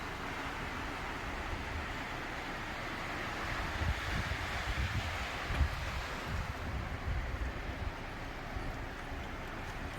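Wind blows across snowy ground outdoors as a steady, fairly quiet rushing hiss with low buffeting on the microphone.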